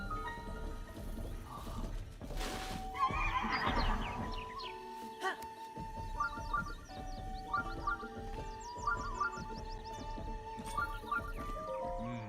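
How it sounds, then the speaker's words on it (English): A horse in Breath of the Wild lets out a faint whinny amid layered game sounds and soft chiming music, with quiet talk nearby. "I believe you cannot register this horse."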